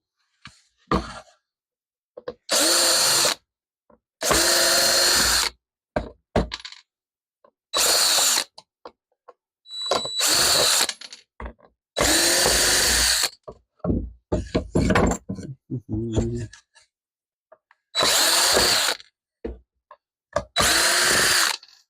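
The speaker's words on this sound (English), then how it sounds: "I'm pulling out the screws not necessarily to disassemble this, but to save the screws, to reuse them." A power drill backs screws out of a cheap wooden scroll saw stand in a workshop. Loud whirring bursts of a few seconds each alternate with clinks and clatter of screws and handling, with quiet gaps between.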